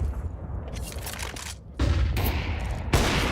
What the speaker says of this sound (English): Oh, miss shot from Simple